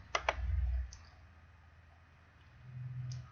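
A computer mouse clicks on a library webpage: two quick, crisp clicks close together at the start, then a quiet room with a soft, low hum.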